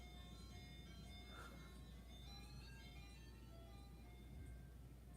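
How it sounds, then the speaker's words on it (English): An ice cream truck's tinkling chime melody plays faintly in the distance along a city street, steady and unbroken over a low background hum. "I think it's the ice cream truck."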